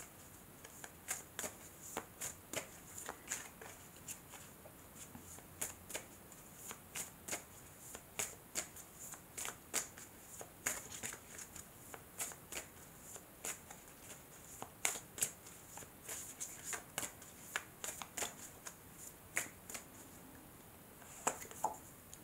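Tarot cards shuffled by hand in a quiet room, a long run of crisp riffling flutters and soft slaps repeating steadily, close and fairly faint, with no talking.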